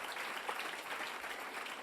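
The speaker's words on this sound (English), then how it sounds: "let's have a round of applause for our wonderful exhibitors" A conference crowd claps steadily for exhibitors at a plenary session, a dense wash of applause from many hands, moderately loud and continuous.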